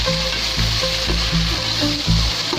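Ginger garlic paste and coarsely crushed green chilies fry in hot oil, a steady close sizzle with soft stirring scrapes pulsing through it.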